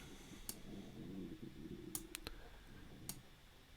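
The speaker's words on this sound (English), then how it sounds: "We're going to click done." A mouse click on a Done button lands as a sharp isolated tick, followed by several more crisp clicks scattered over a quiet background with no speech.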